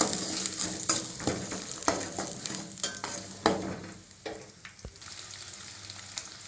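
Garlic and small shallots sauté in hot oil in a pan for Tamil ennai kathirikkai kulambu, with a steady sizzle and repeated scraping stirs that come close and clear, and no voices.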